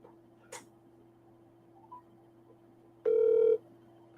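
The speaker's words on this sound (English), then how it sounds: "I'm gonna dial it and have a listen." Dialing a law firm's phone number ahead of an automated answering menu: a single loud electronic tone lasts about half a second over a steady low line hum, with faint clicks before it and no voices.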